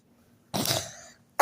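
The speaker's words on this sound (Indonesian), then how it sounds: "Lagi batuk." A single harsh cough bursts out close by, then trails off, with a second cough starting just as the sound ends.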